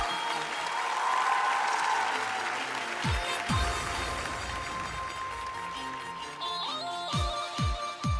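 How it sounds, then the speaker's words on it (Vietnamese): A TV studio audience applauds warmly to welcome eleven contestants on a dance competition show. The loud, continuous clapping runs under a swelling musical score with sharp sweeping stings and tonal hits. "xin dành một tràng pháo tay thật nồng nhiệt để chào đón 11 thí sinh của Bước"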